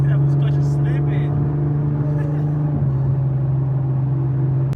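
A Mustang 5.0 racing a Nissan 370Z with a slipping clutch produces a loud, steady engine drone with strong low rumble, heard close and continuous throughout.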